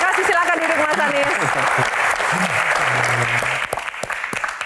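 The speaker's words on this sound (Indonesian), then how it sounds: "Tepuk tangan, terima kasih." An audience at a Q&A event with Anies breaks into dense, steady applause that fills the clip and fades toward the end, while a voice talks over it.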